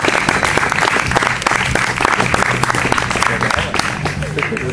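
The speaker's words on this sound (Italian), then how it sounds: "Fate l'applauso non a noi" An audience at a 2011 commemorative community event applauds loudly and continuously, with dense clapping throughout and some voices mixed in beneath it.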